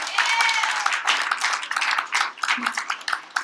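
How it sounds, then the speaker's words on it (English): A university audience at an entrepreneurship pitch event bursts into applause, loud and close, mixed with scattered individual claps that thin out and ripple unevenly toward the end. "Give Chris a big round of applause"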